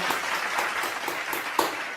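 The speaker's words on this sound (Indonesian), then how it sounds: "Coba beri tepuk tangan untuk kelompok 3" A classroom of students claps for a group for about two seconds, a loose steady patter of hands at moderate level with one sharper clap near the end.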